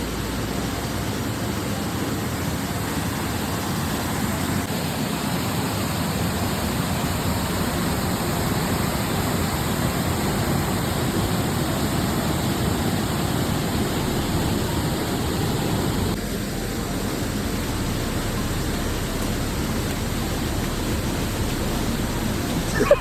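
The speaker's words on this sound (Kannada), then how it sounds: "ಈ ಫಾಲ್ಸ್ ಬಂದು 3 ಟೈರ್ ವಾಟರ್ ಫಾಲ್ಸ್ ಆಗಿರುತ್ತೆ." The first tier of Hidlumane waterfall near Shimoga, Karnataka, during the monsoon gives a loud, constant roar of falling water, close and steady throughout with no voices.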